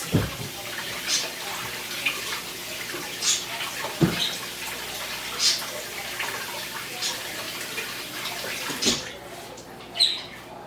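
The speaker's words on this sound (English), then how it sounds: "Just a little dab of water." Tap water runs briefly into a cooking pot holding a Serrano chili and a tomato set to boil, a soft splashing stream with scattered drips and clinks in a kitchen.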